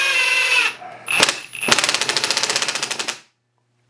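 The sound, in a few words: Ryobi P238 three speed impact driver running on speed 2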